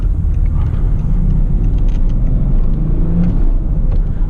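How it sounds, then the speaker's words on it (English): A BMW E61 530d diesel with a manual gearbox pulls hard out of a corner in second gear, a loud, steady engine roar and road rumble heard from inside the car without talk. "I exited the corner on second gear, hard on the throttle"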